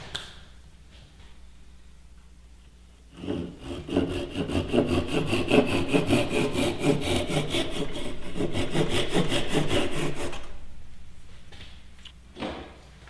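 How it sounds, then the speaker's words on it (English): A handsaw cuts through spalted beech wood with rapid, regular rasping strokes that run for several seconds, loud and close, then the sawing stops and it goes quiet. "I'm just going to cut it off by hand."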